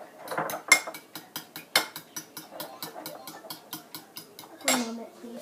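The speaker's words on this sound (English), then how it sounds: "So now you have the 2 eggs. We're just going to stir them up." Two cracked eggs stirred briskly in a bowl with a utensil: a rapid, regular run of light clinks and taps against the bowl's side, close and fairly quiet, with a faint scrape and a short rustle near the end.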